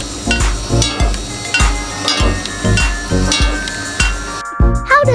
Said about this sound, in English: This is an automatic press machine that quickly molds charcoal or coal powder into small ball shapes.